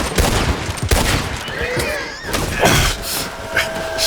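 Rapid gunfire exchange in a Western shootout in Red Dead Redemption 2, with repeated loud shots and bursts overlapping through the span, some voices faintly underneath.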